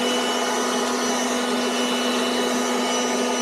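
A cordless 190 mph leaf blower runs steadily at its fourth speed setting, giving a loud, constant whirring roar with a high motor whine that holds even throughout with no talking.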